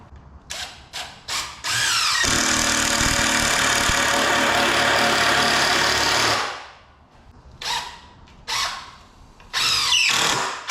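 A power drill drives screws into a firewood storage rack: a few short trigger bursts, then one long steady whirring run of about five seconds, followed by more brief bursts, close and loud with no talk.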